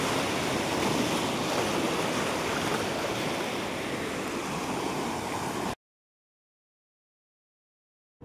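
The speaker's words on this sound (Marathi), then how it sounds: "पाणी, शांतता, पाण्याचा आवाज," Sea waves on Wayangani Beach in Ratnagiri on the Konkan coast, a steady, loud roaring wash of surf for about six seconds that then cuts to sudden silence.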